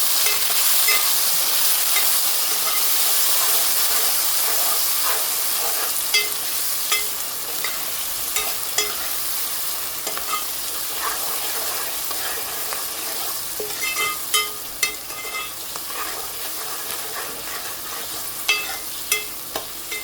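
Minced keema with tomato and green onion sizzles steadily in a pan while it is stirred, with a constant loud frying hiss and scattered clicks and scrapes from the spoon throughout.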